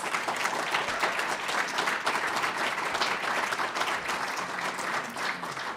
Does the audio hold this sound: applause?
yes